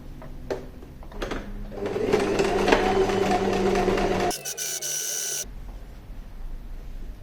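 Sewing machine with a standard presser foot stitching along both sides of a fabric pouch, a steady close whir that runs for several seconds, then stops abruptly and gives way to softer handling noise.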